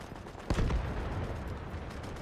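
An AA gun fires during an ALGS championship match: one loud, heavy burst with a deep boom rises sharply out of steady in-game background noise, then fades back into the ambience.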